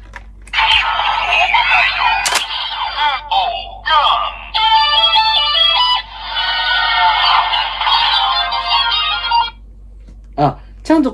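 A CSM Decadriver Ver. 2 Kamen Rider Decade collector toy belt plays the unique electronic sound effect for a Den-O Axe form card: bright, busy, chiming synthesized tones and jingle-like phrases for several seconds, followed by short bursts near the end.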